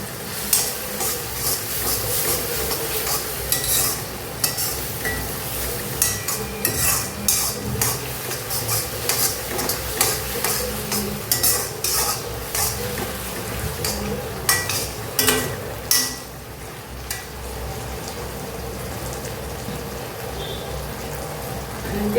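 Steady stirring and sizzling of a Manchurian mixture with soy sauce in a pan, with spoon scrapes and clinks on the metal repeating close up for over twenty seconds.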